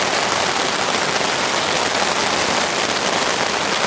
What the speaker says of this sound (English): The rain has reached absolute deluge status.